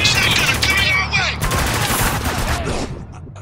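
Sustained rattling gunfire from an insect gunner in the war shooter Spec Ops: The Line, loud and dense with bursts overlapping explosive crackle, continuing for several seconds and tapering off at the end.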